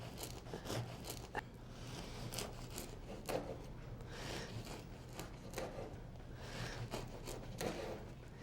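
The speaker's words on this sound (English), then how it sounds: "I'm just gonna cut some croutons" A knife saws through bread to cut croutons, giving faint, repeated rasping strokes in a steady rhythm with soft crunchy scrapes.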